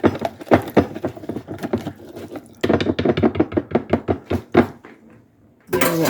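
Cornbread muffin batter being mixed in a bowl, a steady series of loud knocking thumps and clacks from a utensil hitting the bowl in an uneven rhythm, pausing near the end before resuming.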